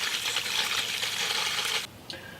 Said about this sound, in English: The next step is we begin to fill it with water, and this will take a little bit.